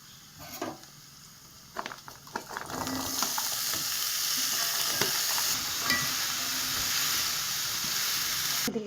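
Pieces of papaya and tapioca drop into a hot pan and settle into a dense, even frying sizzle, with a few clatters of stirring before it steadies, close and loud.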